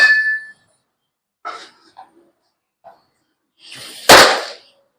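A single sharp, loud pop of a baseball smacking into a large, lightweight catcher's mitt near the end, after a few faint scattered sounds and near silence.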